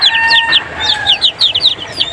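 Pet chicks drinking water with medicine in a backyard, chirping in rapid high-pitched peeps, repeated and close, with no talking.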